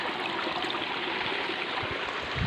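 Water rushes in a steady, continuous flow, loud and close, a broad hissing roar with no voices.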